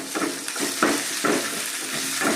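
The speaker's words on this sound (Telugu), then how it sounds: "పోపులో కూడా మునగాకు వేస్తానండి నేను." Curry leaves and drumstick leaves crackle and sizzle in hot tempering oil, with a few louder bursts and stirring scrapes over a dense close frying hiss.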